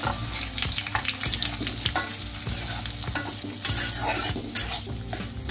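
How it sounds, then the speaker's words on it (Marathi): Quarter kilo of semolina roasting in hot ghee while being stirred for date sheera, a steady close sizzle with repeated scraping strokes of a spoon against the pan throughout. "आता यामध्ये मी हा पाव किलो रवा घेतलेला आहे, तो भाजून घेऊया।"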